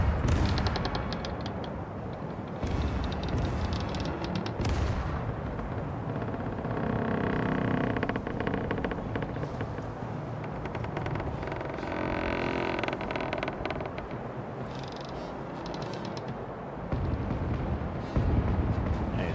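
Ship cannons firing during a naval battle against Dutch navy ships in the game Caribbean Legend, heavy booms and sustained gunfire rumbling loudly and continuously with sharp blasts near the start and end.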